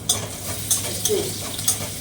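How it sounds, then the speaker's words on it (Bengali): Potato and eggplant frying with onion in a pan, stirred with a utensil: a steady close sizzle runs throughout, broken by four sharp scraping clinks of the stirring, with no voices. "এবার পেঁয়াজ দিয়ে আলু বেগুনটা একটুখানি ভাজা হতে থাক মিশিয়ে দিলাম"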